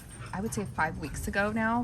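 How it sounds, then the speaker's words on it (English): Dogs yip and whimper at home near a garden, brief barks and whines mixed in while a person talks over them. "Sorry about my dogs barking."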